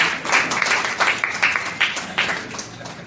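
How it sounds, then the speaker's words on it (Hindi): An audience at a Hindi poetry recital claps enthusiastically in honour of a poet, a dense, fairly loud and sustained round of applause with rippling bursts of handclaps throughout. "आइए दादा के सम्मान में एक बार जोरदार तालियां बजा दीजिए।"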